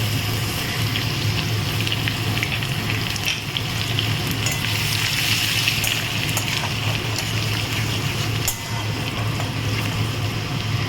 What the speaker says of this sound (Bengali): রসুনটা একটু হালকা ভাজা ভাজা হওয়ার সঙ্গে সঙ্গে আমি পেঁয়াজটা দিয়ে দিচ্ছি।